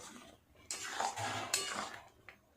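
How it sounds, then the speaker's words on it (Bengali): A metal spatula scrapes and presses against the bottom of a wok while stirring sago khichuri, giving a few short clattering scrapes, fairly quiet and close, with no voices. "এইভাবে খুন্তিটাকে চেপে চেপে কড়ার নিচে এইভাবে ঘাঁটতে হবে।"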